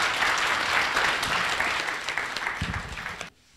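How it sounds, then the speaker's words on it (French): Sustained applause from an audience at a gathering with the national gendarmerie in Burkina Faso, a broad even wash of many hands clapping that holds steady, then drops away abruptly near the end. "Applaudissements nourris, mesdames et messieurs."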